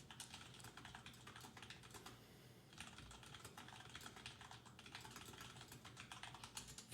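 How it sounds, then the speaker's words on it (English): Rapid, furious typing on a computer keyboard, a dense clatter of keystrokes running nearly nonstop and close up, with a brief lull partway through. "Furious typing."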